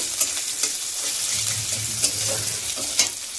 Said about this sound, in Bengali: এটা একটু করে ভাজা ভাজা করে নিব।